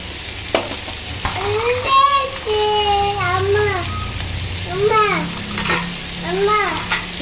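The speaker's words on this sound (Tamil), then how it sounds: "இப்போ வெஜிடபிள்ஸ் எல்லாம் போட்டு நம்ம கொஞ்சம் ஓரளவுக்கு கொஞ்சம் வதக்கி விட்டுக்கோங்க" Chopped vegetables stirred and sautéed over tomato in a pan for vegetable biryani, with a steady low sizzle and scraping stirs under a voice speaking and a child babbling intermittently throughout.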